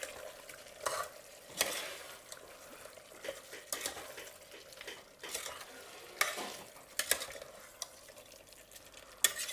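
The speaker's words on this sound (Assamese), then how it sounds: "এতিয়া আকৌ 6-7 মিনিটমান এনেকৈ ভাজি ল'ব লাগিব" Mutton frying in a pan with turmeric, stirred with a utensil that scrapes intermittently over a soft, continuous sizzle, quiet and close.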